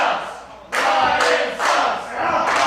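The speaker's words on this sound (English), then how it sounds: "Ryan sucks chant from the crowd" Wrestling crowd at a CZW Dojo Wars show bursting into a loud rhythmic chant, repeated phrase bursts rising and falling in about three waves over steady crowd noise.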